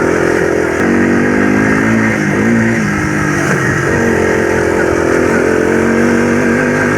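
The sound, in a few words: YTM225 three-wheeler engine running in fifth gear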